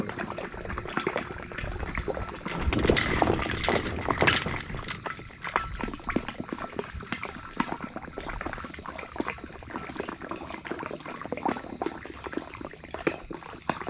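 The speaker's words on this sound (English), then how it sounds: "water has to drop 230 feet down to the water level" Steady watery rushing and trickling with scattered splashy clicks as chlorinated water falls 230 feet down a newly drilled well to the water level, fairly faint and continuous.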